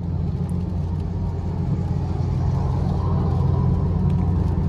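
A small car drives a slick mountain road in heavy rain near Mae Sot, a steady close engine rumble and road roar that holds even and unbroken throughout.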